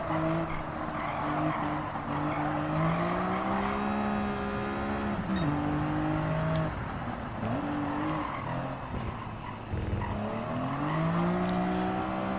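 Greddy Fugu Z race car in Gran Turismo 7 lapping Willow Springs Raceway, a loud continuous engine note rising and falling through gear shifts, with tire squeal through corners and no talking.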